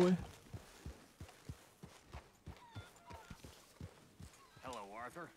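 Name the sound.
horse hooves clip-clopping in a video game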